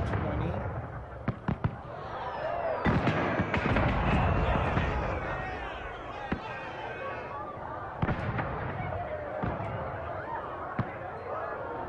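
Repeated fireworks-style explosions in Dragon Age: Inquisition, sharp booms and crackling bursts scattered throughout, some clustered, over a steady dense rumble.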